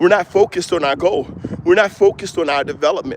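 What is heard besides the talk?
No everyday noises stand out.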